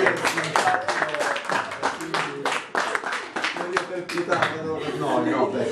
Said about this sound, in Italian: merita un applauso